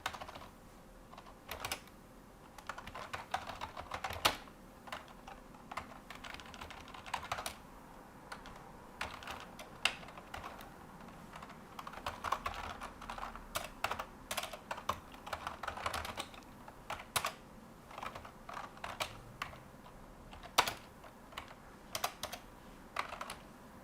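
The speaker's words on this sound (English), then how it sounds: "Typing on a terminal." Fingers typing commands on a computer keyboard at a Linux terminal, quiet irregular bursts of close key clicks and taps with short pauses between runs, no voices.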